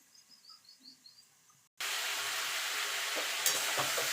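Katoya stalk vegetable cooking down in a pan for chorchori, a loud steady sizzle that starts abruptly after a quiet stretch of faint chirps, with occasional stirring scrapes.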